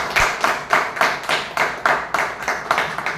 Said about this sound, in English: So with a big round of applause,